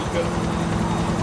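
A helicopter in the video game GTA, a loud, steady rotor thrum with dense low chopping that carries through the whole moment at close range, with no voices over it.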